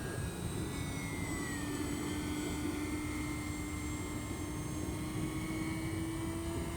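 An E-flite P-51D Mustang 1.0m electric RC model plane flies overhead with a steady, distant motor and propeller drone, its pitch rising slowly as power comes in, heard alone without talk.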